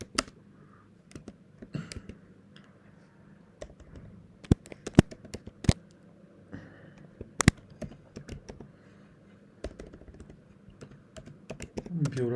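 Quick, irregular keystrokes clatter on a computer keyboard while Vue code is typed, sharp clicks in short bursts and pauses against a quiet room, the final seconds turning noisier.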